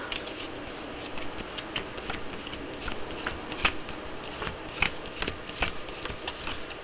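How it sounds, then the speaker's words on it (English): Cards from a hand in a solo tabletop game of Valley of the Kings are shuffled with soft, steady papery riffling and small slaps, close and fairly quiet, with no talking. "I need to shuffle my hand up."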